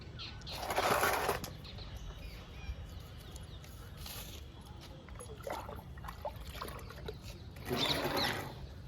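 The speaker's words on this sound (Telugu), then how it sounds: "ఇప్పుడు ఈ మొక్కలకి వాటర్ ఇద్దాము." Water is poured lightly onto garden plants in already damp soil where lilies are being planted. Two separate splashing bursts come at the start and near the end, with quieter ambient sound between them.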